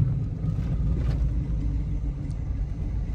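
Turbocharged Chevrolet Tahoe driving on the street, its engine a steady low rumble that fills the cabin continuously at a moderate, even level with no talk.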